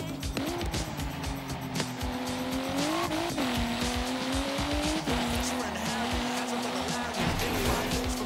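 A car in Forza Horizon 3 drives with its engine note rising and falling through gear shifts, with tire noise and a steady loud hum underneath.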